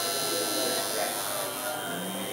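A tattoo machine buzzes steadily as its needle works on a person's arm. The electric whine is continuous and close, with no talk during the clip.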